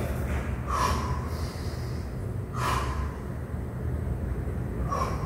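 Sharp breaths drawn in during a bent-over barbell row, three distinct bursts at a steady rhythm over a constant low hum, close and fairly loud, with no talking.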